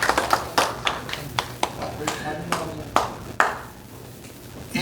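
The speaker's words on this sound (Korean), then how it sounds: "박수 한번 쳐주세요." Scattered audience clapping at a Christian federation honorary-chairman appointment ceremony, a handful of separate sharp claps spread across the moment with background voices and room noise underneath.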